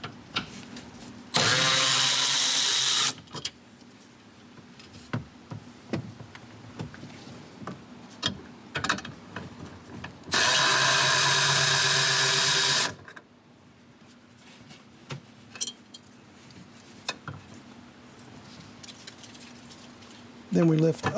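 A power drill spins out 10 millimeter bracket bolts on a 2014 Toyota Prius during 12V battery replacement: two loud whirring bursts of a few seconds each, separated by clinks and handling noises, with a person talking in between.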